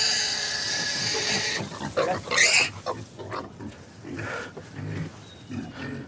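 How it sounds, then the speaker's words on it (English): A healthy pig on a Welsh farm gives a run of snuffling grunts and oinks in irregular bursts, fairly close, over rustling background noise. "that's a very healthy pig making a fairly standard pig noise"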